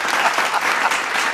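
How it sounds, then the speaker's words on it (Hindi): Audience clapping at a Hindi comedy poetry show with political satire, a steady dense burst of applause filling the room throughout, with no speech over it. "तालियां वाले बजाइए, एक कविता और मैं आपको सुना देता हूं।"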